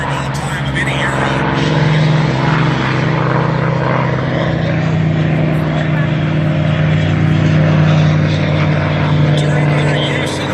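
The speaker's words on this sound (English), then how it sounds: "Mustang with the bubble top taking off" A P-51 Mustang fighter with a bubble-top canopy takes off at an air show, its loud, steady propeller engine drone filling the whole stretch with a strong low hum and a crowd murmuring underneath.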